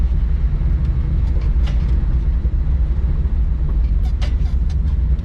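A loaded log truck uses engine braking on a steep downhill, giving a constant heavy diesel roar with faint rattles and clanks over it.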